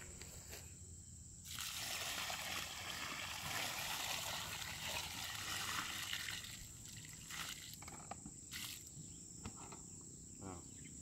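Watering solution is poured evenly around the base of a guava tree, a steady wash of splashing liquid for several seconds that eases off, with insects chirping faintly throughout.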